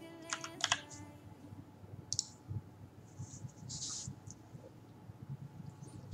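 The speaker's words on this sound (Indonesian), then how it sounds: "lalu kita ketikkan di sini Instagram" Fingers type on a computer keyboard in short, clustered bursts of crisp clicks separated by quiet pauses, close and clear with no talking.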